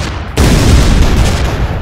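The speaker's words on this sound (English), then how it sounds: "That was a lot of green explosions going on." Explosion in the artillery video game ShellShock Live, a sudden loud boom that bursts in after a brief quiet moment and rumbles on as a dense, sustained blast.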